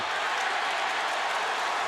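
A basketball arena crowd cheers and applauds steadily through a 2006 NBA playoff game between the Cavaliers and Wizards, a dense, loud wash of clapping and roar with no clear gaps.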